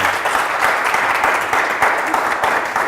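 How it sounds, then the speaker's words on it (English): Audience applause for an artist's talk at the Cornell Fine Arts Museum, a dense, continuous patter of many hands clapping at close range, steady and fairly loud throughout. "Let's give him a round of applause for being here."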